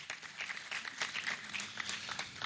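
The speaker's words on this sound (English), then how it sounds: "Please a round of applause for him." Audience applause for a distinguished guest at the unveiling of a Nigerian reputation management group, faint, distant clapping that runs steadily throughout without voices.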